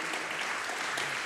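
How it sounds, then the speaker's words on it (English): Audience applause after a panel session at a Taipei design summit forum, a steady dense wash of many hands clapping throughout, with no voices over it. "please give them big applause for the sharing"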